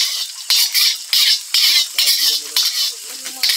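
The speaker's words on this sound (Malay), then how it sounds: "Aku dah macam goreng, bukannya menggrill ni" Hissing, sizzling food frying in a pan over a campfire outdoors, with repeated scraping and stirring strokes at a steady rhythm.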